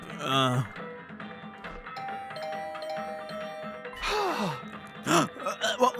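A doorbell rings several times in the video game The Hundred Line, clear repeated electronic tones set between vocal gasps and sighs.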